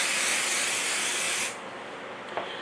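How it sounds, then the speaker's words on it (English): A can of spray adhesive hisses onto quilt fabric in one steady, close burst lasting about a second and a half, then cuts off, leaving quiet room tone and a faint tap. "So I'm going to spray again."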